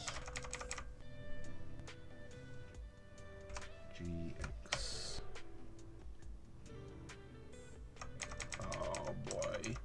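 Typing on a computer keyboard, a steady run of light clicking keystrokes with faint music underneath.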